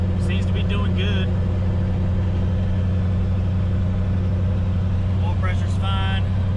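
Turbo LS-swapped Mazda RX-7 driving down the road, a steady low engine drone from inside the car with brief chirping squeaks at the start and end.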